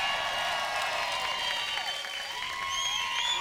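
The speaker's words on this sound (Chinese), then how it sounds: "那我们现在掌声欢迎" An audience claps and cheers to welcome a singer onto the stage, a dense, sustained wash of applause with some high whistling or tonal sounds mixed in.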